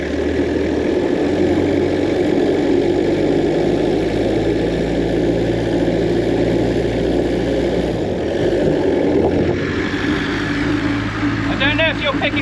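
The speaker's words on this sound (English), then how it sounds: "some of the sounds coming out from the running gear" The running gear of a Peugeot P4 makes a steady, loud mechanical drone and rumble while driving, thinning out near the end, with a voice heard over it.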